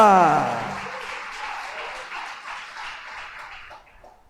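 A church congregation breaks into applause during a pastor's sermon, a broad wash of clapping from many hands that starts loud as a voice fades out, then slowly tapers off over a few seconds.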